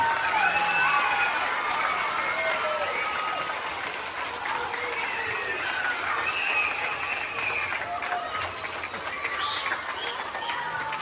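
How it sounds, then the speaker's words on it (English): Audience applause and cheering at a donation presentation to the Fairmont Ag Foundation, sustained clapping with whoops and shouts rising mid-clip, fairly close and steady throughout. "So big round of applause for Bode down."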